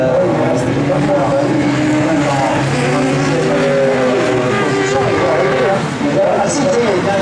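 An autocross buggy races past on a dirt circuit, its engine droning and shifting pitch as it goes by, with people chatting nearby over the motor noise.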